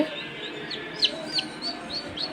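A newly hatched chick in an egg incubator gives high, thin peeping chirps every few tenths of a second over a soft steady background hiss, close and fairly faint, with no talking.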